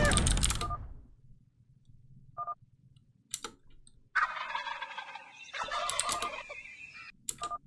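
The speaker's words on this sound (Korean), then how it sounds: "칠면조 소리 처음 듣는다" A turkey gobbles in a StarCraft custom-map animal sound quiz, a few loud, rattling bursts separated by quiet gaps, with electronic beeps mixed in.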